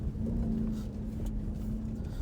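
A Ford Raptor R truck drives off-road over whoops with a steady, moderately loud engine drone and low rumble that holds without pause.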